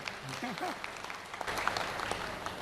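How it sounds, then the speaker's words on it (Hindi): Applause from a crowd at a public hearing in Sikar, Rajasthan, honoring an 80-year-old farming woman; steady clapping under a voice speaking through a loudspeaker, moderately loud throughout. "एक बार ताली बजाइए उनको जोरदार।"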